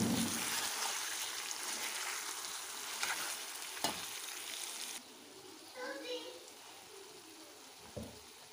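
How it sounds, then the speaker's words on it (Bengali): Curry leaves frying in hot oil for an egg curry cooked on a rooftop. A soft sizzle is stirred in a pan and then eases off, with a few clinks of the utensil. "এখানে আমি 2-4টে কারি পাত্তা দিয়ে দিলাম, বেশি দিলাম না, দিয়ে একটু নেড়ে চেড়ে জল দিয়ে দেব"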